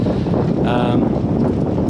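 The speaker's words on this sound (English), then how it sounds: "As you can hear, it's incredibly windy today." Strong wind buffets the microphone aboard a boat anchored in the Burnt Islands, with a steady, loud roar throughout, broad rumbling noise and no clear pauses.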